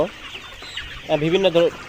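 Layer pullets on a farm holding batches of about 3,000 birds cluck close by, with a quiet start and then a louder burst of rapid, overlapping clucks.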